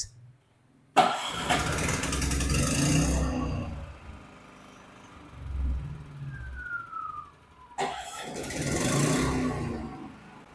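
Blackstone 3200-watt generator engine cranking to life, then running in bursts with a pause between, fairly loud and close with brief quieter gaps.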